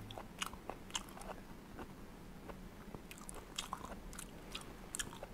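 Someone eats soft, rubbery intestine by hand, with faint close-up wet chewing and smacking that comes in irregular little bursts over quiet room noise, and nobody talks.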